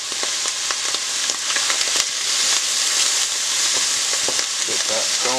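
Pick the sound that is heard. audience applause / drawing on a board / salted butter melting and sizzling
salted butter melting and sizzling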